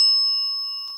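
A bell rings with a steady sustained tone during a ghost-hunting session in a reputedly haunted house, holding clear and alone for about a second before fading slightly.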